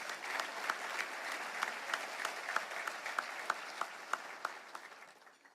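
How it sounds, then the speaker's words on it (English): Audience applause at an annual Louisiana business luncheon, a fairly faint, distant crowd clapping steadily, with a few sharper individual claps standing out in the later part. "let's give Jim Patterson a round of applause"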